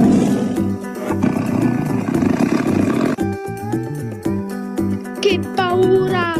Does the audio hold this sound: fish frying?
no